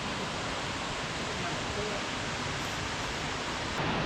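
A large waterfall in North Carolina roars as a dense, steady rush of falling water, loud and unbroken throughout.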